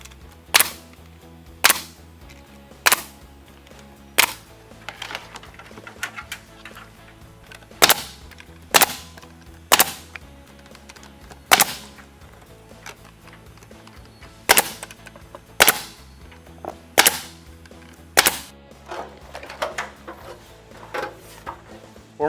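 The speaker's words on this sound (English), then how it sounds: "then we're going to start our nailing process. We're going to nail every 6 inches on center" A nail gun fires into Diamond Kote board-and-batten vertical siding panels, sharp loud bangs spaced unevenly a second or two apart, with faint knocks and rattles between shots.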